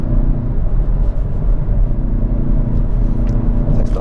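A Hyundai i30N engine drones as the car drives a hill course, a loud continuous low rumble heard from inside the cabin.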